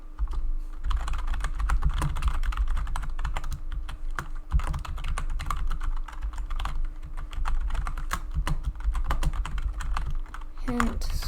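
Rapid, uneven clicking of keys on a computer keyboard while a shader is coded in Godot 4.0. The keystrokes come in close, steady bursts with brief pauses, and there is no talking.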